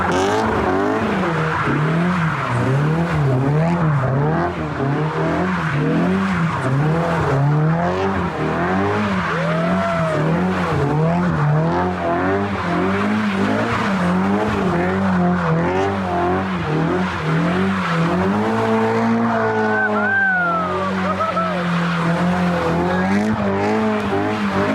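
A doorless Honda S2000 drives and drifts, its engine revving in wavering pitch while tires squeal repeatedly throughout, loud and close, with a sharper skid near the end.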